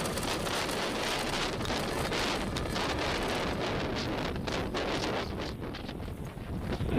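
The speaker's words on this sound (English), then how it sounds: "Ignition. Liftoff of L-87. Go Falcon, go, go." Deep, steady roar of a SpaceX Falcon 9 rocket lifting off from Vandenberg Space Force Base, California, a broad rumbling noise that stays loud and continuous throughout with no pauses.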